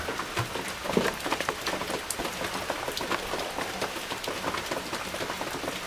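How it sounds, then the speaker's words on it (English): A cold rain falls steadily on a homestead, a dense, continuous patter of drops on surfaces with scattered louder splashes close by, and no voices. "Rainy day here on the homestead. It's a cold rain."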